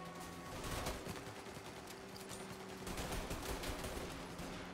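Dense, continuous gunfire in the Mafia Definitive Edition video game, sustained rattling bursts that blend together under a steady wash of noise, with no talking.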